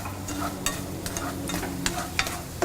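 Grated carrots mixed with sugar sauté in a pan over a medium flame, giving a steady close sizzle broken by repeated scraping stirs of a spoon against the pan.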